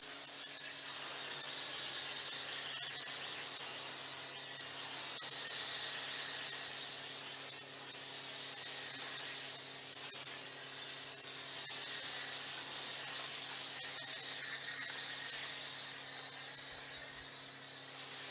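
A pressure spray of water rinses drying aid off a car, a steady broadband hiss running continuously with slight swells as the jet moves across the panels, no voices.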